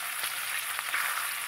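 Fish fry in a pan with oil, a dense, even sizzle and crackle heard close up and steady throughout, with no voices.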